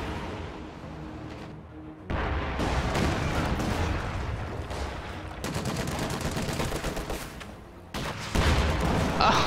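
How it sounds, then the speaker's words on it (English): A Katyusha rocket artillery barrage in a strategy video game comes in loud waves of rapid rattling blasts and booms, with brief lulls between bursts and no speech. "Oh no, Katyusha barrage."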